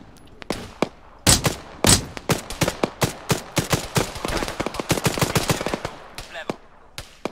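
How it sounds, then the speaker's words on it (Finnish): Rapid bursts of enemy gunfire in a shooter video game, dense volleys of sharp shots crackling loudly and close for several seconds, with brief quieter gaps between bursts and no talking. "Vittu kun nää ampuu."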